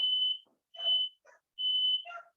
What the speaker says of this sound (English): our fire alarm's going off again